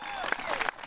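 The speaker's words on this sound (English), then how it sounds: "Let's have a round of applause for that." Audience applause at an outdoor Veterans Day ceremony marking the 100th anniversary of a VFW post, a brief burst of clapping mixed with a voice.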